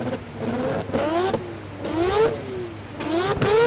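Rotary-engined drag car at Willowbank Raceway in Australia holding revs on a two-step launch limiter, loud rising and falling engine pulls repeated three or four times, close and alone without talk.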